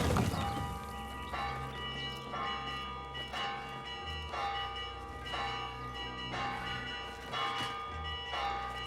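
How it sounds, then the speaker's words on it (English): Church bells clang repeatedly in Assassin's Creed Mirage, with evenly spaced heavy strikes at about one-second intervals over a sustained ringing drone, loud and with no talk. "I can't tell you how annoying it was running around with bells like this the whole time"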